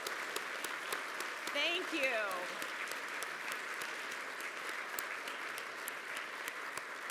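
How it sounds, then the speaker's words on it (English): A crowd claps steadily at an organization's event honoring staff, an even, moderately distant patter lasting throughout, with a brief spoken voice early on. "round of applause."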